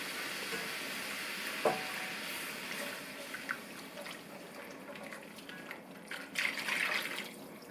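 Liquid poured into a browned roux and stirred for a vegetable pie gravy, a soft sizzle and watery bubbling with light stirring scrapes, fairly quiet and alone.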